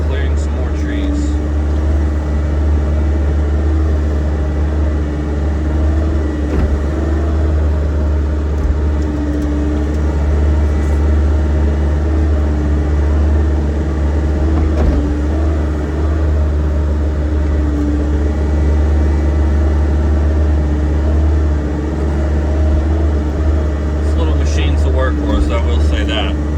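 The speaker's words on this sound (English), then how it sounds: "let's just enjoy the sound of the hydraulics" A Bobcat E60 excavator idles with its hydraulics running, a loud, steady low engine rumble and hydraulic drone continuing without a break, with faint clanks near the end.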